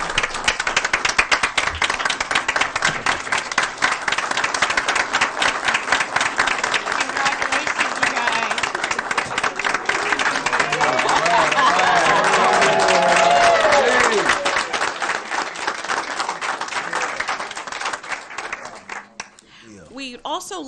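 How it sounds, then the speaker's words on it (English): Audience at a school board meeting gives a long, loud round of applause, steady clapping that swells midway with faint cheering and voices beneath, then tapers off near the end. "Please give those ladies a round of applause"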